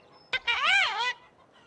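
A lone chicken lets out a drawn-out, wavering squawk after a quick sharp click, clear and close in an otherwise quiet moment.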